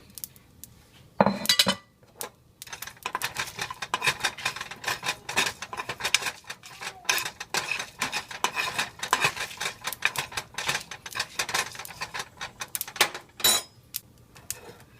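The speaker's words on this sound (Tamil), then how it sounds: "எள்ளும் போட்டு நல்லா வறுத்தாச்சு" Sesame seeds dry-roast in a pan with a dense, rapid patter of tiny crackles and rattling scrapes from stirring, close and busy throughout, with a few louder knocks.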